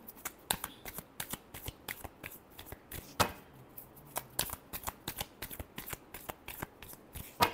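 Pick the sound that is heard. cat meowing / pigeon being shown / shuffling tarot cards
shuffling tarot cards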